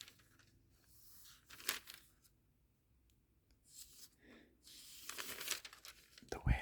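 Thin, loose Bible paper pages being turned slowly by hand in a quiet room, giving soft rustles and crisp crinkling swishes in several separate bursts with near-silent gaps between them.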